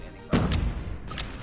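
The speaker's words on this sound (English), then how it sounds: "I love the reload sound." A weapon reload with a legendary skin in a video game, heard as one short, close, muffled mechanical thump followed by a brief clack and faint rattle, alone without talk.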